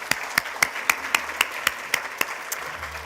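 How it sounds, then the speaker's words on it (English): Applause breaks out at the Victorian School Sports Awards for the mums, dads and guardians, heard as a steady, evenly spaced beat of distinct sharp claps at a moderate distance. "Let's give them all a round of applause."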